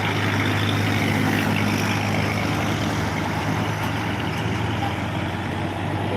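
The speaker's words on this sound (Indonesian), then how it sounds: "Wah, ini mobil truk" A trailer truck rolls past on a busy road at an underpass in Palembang, with a steady, loud engine rumble and broadband road noise throughout, no voices.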